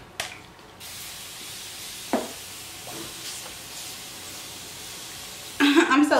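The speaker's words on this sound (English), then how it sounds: "I use my spray bottle to wet my beauty blenders when I don't feel like getting up to wet them." Spray bottle misting water onto beauty blender makeup sponges, a short hissing burst near the end after a quiet room with a couple of faint handling clicks.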